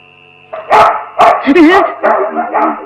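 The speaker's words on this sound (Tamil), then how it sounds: "அம்மா நாய் நம்ம நாய்ங்களா இல்ல போலீஸ் நாய்ங்களா" Dogs bark loudly in several sharp bursts over about two seconds, close by, mixed with speech-like sound in a comedy film scene.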